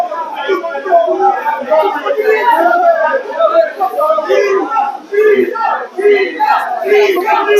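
A noisy crowd at a snooker match keeps up a dense, continuous murmur of overlapping chatter and raised voices, fairly close and loud throughout with only brief dips.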